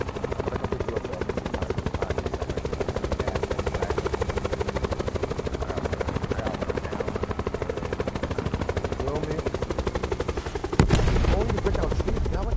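Helicopter rotor thumping steadily and loudly in Black Ops 4 Blackout, a fast rhythmic chop running throughout with voices over it and a sharp burst of gunfire near the end.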